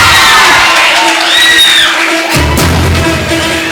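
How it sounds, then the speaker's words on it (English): An audience at an educational institution's event cheers loudly with whoops and shouts. The noise is close and sustained, with a brief thump partway through. "So guys, please give a big round of applause."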